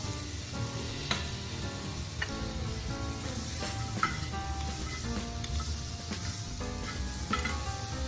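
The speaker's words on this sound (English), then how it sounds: "I'm gonna add me some butter to my skillet." Butter sizzling steadily in a hot skillet, a continuous crackling fry with scattered pops and faint utensil clicks, close and alone with no talking.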